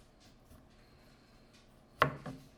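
A knife slicing thinly through garlic on a cutting board while making pork tonteki: two close, sharp chopping strokes near the end, following a quiet stretch.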